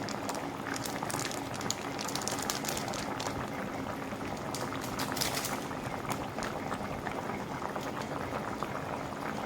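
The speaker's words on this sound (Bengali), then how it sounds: "তো বড়ার সাথে পাঁচ মিনিটের মতো আমি জাল করে নিব" Lentil fritter curry (dal bora dalna) simmering in a pan, a steady soft bubbling and crackling boil that continues evenly and fairly quietly throughout.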